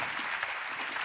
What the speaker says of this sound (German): Riesen Applaus für dieses Duo.